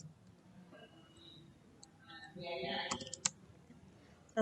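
Keys on a computer keyboard are tapped to enter a password, a quiet irregular run of clicks with a few sharper taps near the end and some faint speech in the background.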